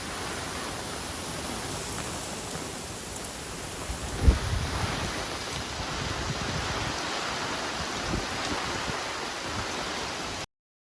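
Steady roaring wind and rain beating on tent canvas during a storm at a carp fishing camp in south-western France, a continuous dense wash of noise with one brief thump near the middle.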